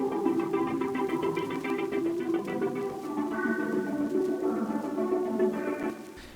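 A layered synth pad in an FL Studio pop production sustains warm, shifting chords with a soft pulsing texture, steady and moderately loud for about six seconds before thinning out at the end.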